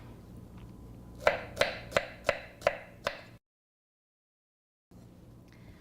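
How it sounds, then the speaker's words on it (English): A knife roughly chops nectarines and jalapeños on a cutting board in six crisp, evenly spaced close thuds, followed by a sudden silence and then faint room noise. "then just go back over and do a nice little chop"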